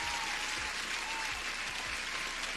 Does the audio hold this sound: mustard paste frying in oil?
no